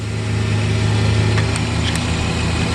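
A Mercedes SL600 engine idling during throttle body repair, a steady loud low hum with a constant tone and small clicks, close up in a workshop.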